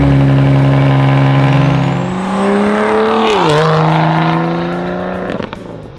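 A BMW with an N55, N54 or B58 engine and a VRSF muffler runs loud and close, holding a steady drone before a quick rev rises and falls, then settling back to a lower idle.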